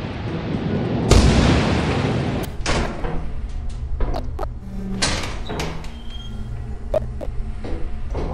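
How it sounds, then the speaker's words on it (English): Metal door in the video game Lethal Company rattled while locked, a loud heavy clank followed by several sharp knocks and clicks, up close over faint rain ambience. "This door is locked."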